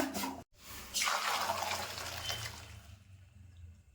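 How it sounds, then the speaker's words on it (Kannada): Boiled penne pasta water gushes through a strainer in a loud, close splashing pour after a brief clatter, then thins and trails off into quiet within a few seconds. "ಇವಾಗ ಪಾಸ್ತಾ ಬೆಂದಿದೆ, ಫಿಲ್ಟರ್ ಮಾಡ್ಕೊಳ್ಳೋಣ."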